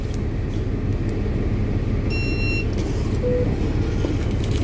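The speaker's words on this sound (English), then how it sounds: "So we're now on the bus 6526." Steady, loud engine rumble from inside a bus heading to Hemel Hempstead railway station, with a brief high electronic beep partway through and no talk.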